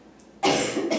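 A single sharp, raspy cough bursts out close by after a quiet moment, with a brief trailing breath at the end.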